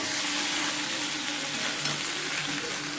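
Okra fries and sizzles steadily in a pan on a home kitchen stove while being stirred, a loud, continuous hiss with occasional scraping, close and without speech.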